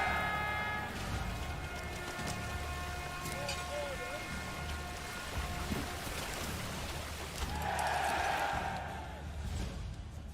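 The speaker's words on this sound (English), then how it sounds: "Mostly raining." Steady rain in the Manor Lords medieval city-building game, a continuous hiss over game music tones, with a swell of louder rain near the end and speech likely mixed in.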